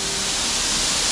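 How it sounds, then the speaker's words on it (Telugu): The Jhari waterfall near Chikmagalur in Karnataka drops from a great height, heard as a steady, dense rushing hiss that fills the whole moment with no other sound. "వచ్చేసాం మనం జరీ వాటర్ ఫాల్కి."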